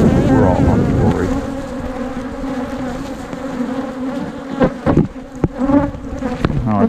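Honey bees buzzing close around nuc hives on a warm day, a dense continuous hum with individual bees swelling past near the ear.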